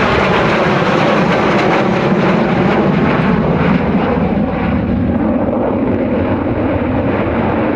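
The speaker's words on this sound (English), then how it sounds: "The Vulcan, when it came into Bruntingthorpe for the last time." An Avro Vulcan jet bomber arrives at Bruntingthorpe airfield with a loud, continuous roar that holds steady throughout before thinning slightly toward the end.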